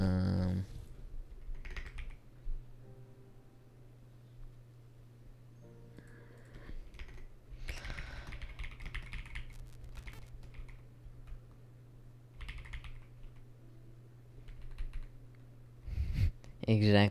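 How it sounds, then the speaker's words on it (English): Computer keyboard typing runs through a livestream of someone scripting, with clicking keystrokes in scattered bursts over a steady low hum, partly under a voice talking. "That's typing and everything."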